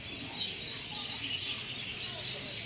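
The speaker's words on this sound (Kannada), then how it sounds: "ಲವ್ ಬರ್ಡ್ಸ್ನ ಬಡ್ಗೇರಿ ಗರ್ಸ್ ಅಂತ ಕರೀತಾರೆ" A flock of budgerigars in an aviary at Bannerghatta Zoo in Bangalore chatters in soft, continuous high chirps, quiet and somewhat distant, over faint background murmur.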